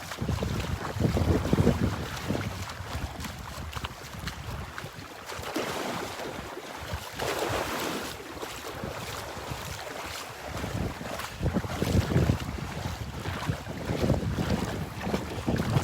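Strong northeast wind on the beach at Delnor-Wiggins buffets the microphone in heavy, continuous gusts, with waves and surf rumbling beneath, and no one speaking.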